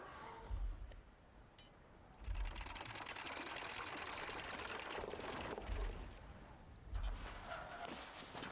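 Water pours in the survival video game Homeseek, a continuous splashing rush that starts after a couple of seconds and runs steadily, punctuated by low thuds and with no speech.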